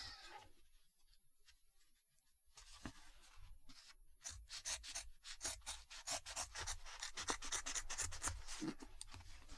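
Cloth is trimmed close up with rapid rhythmic scissor snips and rustling fabric, quiet at first and then a dense run of crisp cuts, with no talking.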